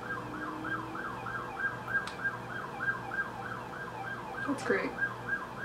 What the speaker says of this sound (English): I love when a siren's going off during my video.